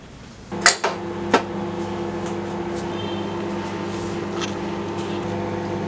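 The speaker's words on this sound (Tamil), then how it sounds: "இப்போ மைக்ரோவேவில் ஒரு 4 மினிட்ஸ் வந்து நான் வைக்கிறேன்" A microwave oven cooks dhokla made from idli or dosa batter, starting with a few sharp clunks of the door and buttons, then settling into a steady, close electrical hum.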